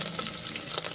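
Onions, green chilies and curry leaves frying in hot oil make a dense, continuous sizzle and crackle, close up, for a brief moment without any voices.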